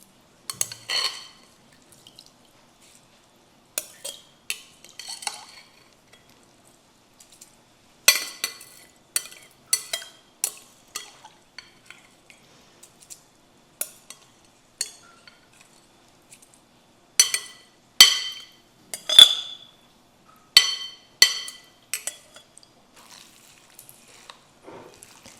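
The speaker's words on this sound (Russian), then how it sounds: "И хорошенько перемешиваем" Washed rice being stirred with onion, carrot, pepper and tomato paste, heard as soft wet squelches and scattered clicks of grains against the bowl in short bursts separated by quiet pauses, close up.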